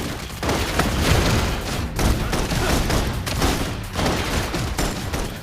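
Sustained bursts of gunfire in the video game Love and Deepspace, rapid overlapping shots and booms forming a loud suppressive fusillade with brief pauses between volleys.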